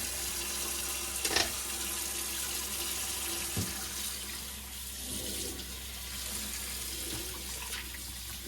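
Hot tap water runs steadily into a sink, a continuous close splashing hiss with a couple of faint clanks.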